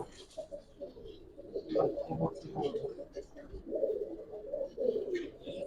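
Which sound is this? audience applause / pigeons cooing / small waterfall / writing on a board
pigeons cooing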